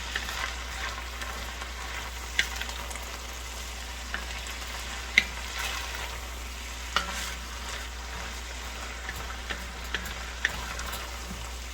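Chili ingredients sizzling and being stirred in a hot pot on a stovetop burner set to 6, a steady frying hiss with scattered soft clicks and scrapes of the spoon, moderately quiet and without talk.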